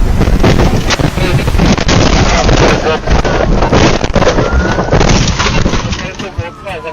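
Police patrol car crashing and flipping during a chase, a loud sustained roar of impact and tumbling noise with heavy wind buffeting, dense and harsh throughout before easing slightly at the end.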